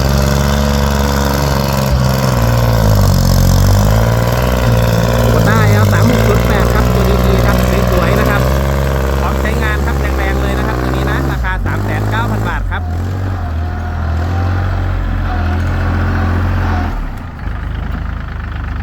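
A used Kubota L3608DT tractor, registered in 2011 and fitted with four new tires, runs with a loud, steady diesel rumble close by while someone talks over it for most of the time.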